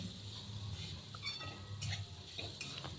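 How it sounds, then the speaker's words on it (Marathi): Ginger and garlic sautéed in a pan for a shahi veg kurma, a soft steady sizzle with a spoon stirring and scraping now and then, close and fairly quiet. "आलं घेतले दोन ते तीन इंच आलं घेतले आपल्याला हे व्यवस्थित परतून घ्यायचं आहे सगळं"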